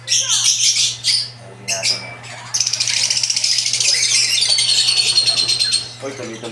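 Pet birds chirp and squawk close by in loud, busy bursts, with a dense run of shrill calls through the middle over a steady low electrical hum.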